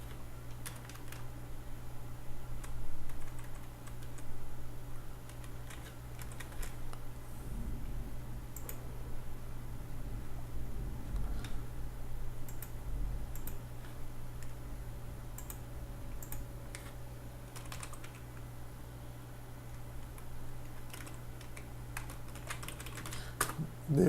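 Computer keyboard typing and clicking while code is copied and pasted in Delphi: soft, irregular key taps and short bursts of keystrokes, fairly close, over a steady low fan hum with no talk.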